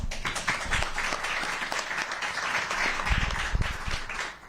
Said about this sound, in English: I'm sure the clapping was for him, not for me